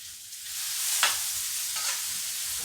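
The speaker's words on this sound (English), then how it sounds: "The cucumber is so soft already that throwing it in for a quick flash saute is going to cover it." Salted cucumber and carrots are flash sautéed in a hot pan, giving a loud, bright, continuous sizzle with a couple of quick stirring swishes, no one talking.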